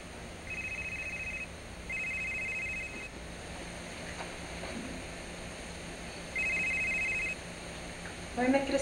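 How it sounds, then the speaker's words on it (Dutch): A telephone rings indoors in three electronic warbling bursts with pauses between them, clearly heard, and someone speaks briefly at the end. "Kijk, je hebt telefoon."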